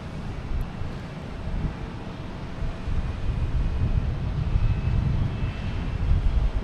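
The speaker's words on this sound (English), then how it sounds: "It looks like we have a Cape Air lining up on 9." Cape Air plane lining up on the runway at Boston Logan airport, heard as a steady low engine rumble at a distance with wind noise across the microphone throughout.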